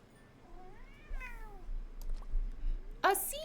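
A small cat meows several times in rising, drawn-out calls, with one sharp, louder meow near the end, over a quiet background.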